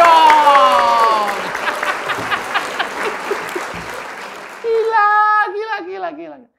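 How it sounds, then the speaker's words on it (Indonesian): Studio audience clapping steadily and fairly loud at a political talk show, the applause tapering off as a voice speaks over it near the end. "Tepuk tangan dong!"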